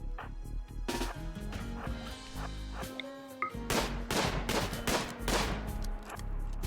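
Rapid gunfire in the video game RimWorld, repeated sharp shots in dense clusters with brief gaps, loud and steady across the stretch, without talking.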